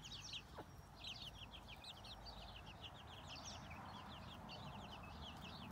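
Chicks and small hens roaming free peep in a rapid, continuous chatter of high cheeps, fairly faint and distant, with no talking.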